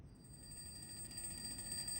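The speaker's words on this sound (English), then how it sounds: "Another alarm clock starts ringing from somewhere in the room." An alarm clock in a room rings steadily with a thin, high metallic tone, faint and continuous throughout, with no voices.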